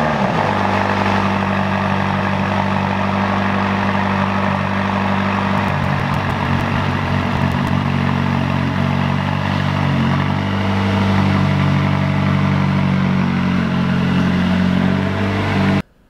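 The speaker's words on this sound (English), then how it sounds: "we're gonna do a cold start of the car before we take it outside" A McLaren 570S fires up from cold and settles into a steady, loud idle, its deep engine rumble holding evenly throughout with a slight rise in intensity near the end before cutting off abruptly.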